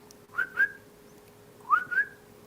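A person whistles a double whistle imitating a male animal's call: two pairs of short, clear, rising whistle notes, separated by a brief silence, sharp against a quiet background.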